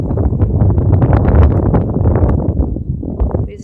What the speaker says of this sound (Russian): На Ставрополье всегда ветер.